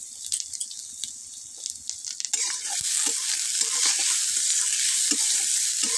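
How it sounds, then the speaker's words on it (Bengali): Onions are fried in oil, and a loud, steady sizzle bursts in abruptly about a third of the way through, then continues close and unbroken with no talking. "পেঁয়াজ আমি লাল লাল করে ভাজে নেবো"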